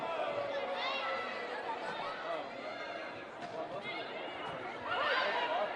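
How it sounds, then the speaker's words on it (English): A big crowd chatters and murmurs steadily through a high school volleyball match at Bishop Dwenger, with a swell of noise near the end. "Big crowd here this evening at Bishop Dwenger."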